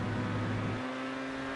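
A car engine in a GTA Online stunt race drones at steady high revs, then the tone drops as the throttle is feathered, a continuous whirring note with no talk over it.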